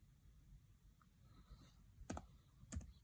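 Keystrokes on a computer keyboard as a Linux terminal command is typed, a few sparse clicks and two short bursts of quick taps near the end, close and crisp over a faint quiet background.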